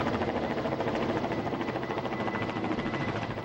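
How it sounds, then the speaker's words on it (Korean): A coast guard helicopter flies on patrol over the open sea about 70 km offshore, its steady rotor chop and engine roar loud and continuous throughout, with no voices. "이날 경비 근무에는 헬기도 동원됐다"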